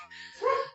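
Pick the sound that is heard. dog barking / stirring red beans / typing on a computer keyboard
dog barking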